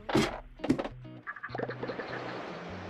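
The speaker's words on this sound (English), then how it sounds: "Okay, I hear zombies here." Two short, guttural Minecraft zombie groans up close in RLCraft, followed by a spell of clattering game sound effects and low rumbling.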